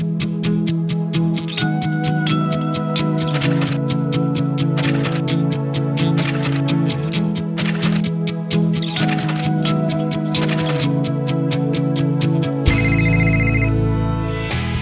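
Repeated electronic telephone ringtone trilling in steady bursts, loud and close, heard in a home phone service advert; the ringing breaks off near the end into a different tonal sound.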